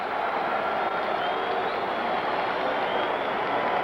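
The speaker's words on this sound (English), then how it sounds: "Crowd roars now as Muhammad Ali comes down the aisle." A boxing arena crowd for Muhammad Ali versus Oscar Bonavena roars as Ali enters, a dense, steady wall of cheering and noise, loud and unbroken throughout, heard from within the hall.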